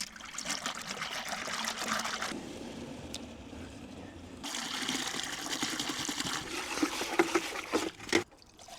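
Water and coolant concentrate pour and trickle into a container in two long runs, fairly close and quiet, with a few small clinks near the end.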